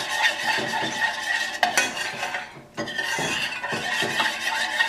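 A spoon or whisk stirs thickening chocolate ganache in a bowl, giving a continuous close scraping and swishing. It is rhythmic, with a brief pause midway, and no one speaks.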